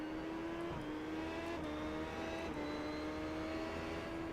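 A race car on a track powers out of a corner on cold tires, its engine a steady, sustained whine with a few brief pitch dips from shifts, heard from on board at a low level.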